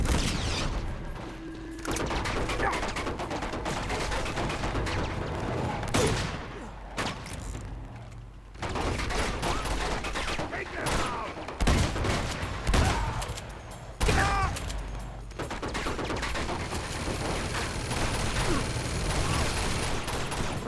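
Dense machine gun fire and other gunshots ring out in the video game Uncharted 2, loud rapid bursts with booms and clanks continuing almost without pause.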